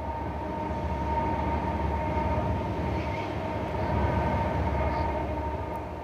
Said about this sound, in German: Minutenlang rollt die Zuglawine durch den White Canyon und scheint kein Ende zu nehmen.